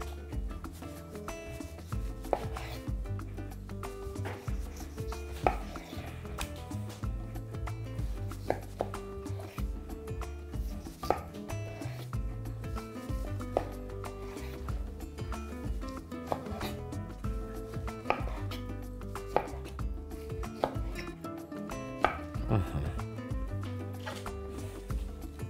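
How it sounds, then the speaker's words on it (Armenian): A knife cutting salad ingredients into small cubes for a shrimp salad, a run of quick close chops on a board with a steady irregular rhythm, quiet and heard alone. "Սա էլ ենք կտրատում խորան արդիկների։"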